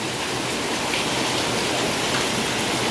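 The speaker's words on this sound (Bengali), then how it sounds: "তোমরা হয়তো বৃষ্টির আওয়াজ হয়তো পাচ্ছ।" Heavy rain pours down in a dense, unbroken roar of close hiss and patter, steady and loud throughout with no voices.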